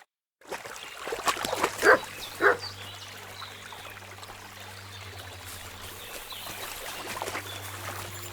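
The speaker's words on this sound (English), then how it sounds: "You silly doggy." In Kingdom Come: Deliverance II, a dog gives two or three short, fairly close barks early on, then a steady trickle of running water and low hum continue.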